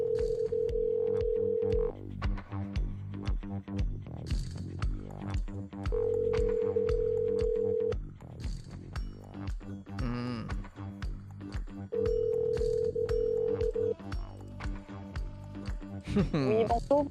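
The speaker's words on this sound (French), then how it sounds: "Allez, Jessica du côté du standard, est-ce que ça sonne?" Telephone ring-back tone on a call to a listener during a live French-language radio show, with three steady two-second tones separated by pauses, under continuous talk and background music.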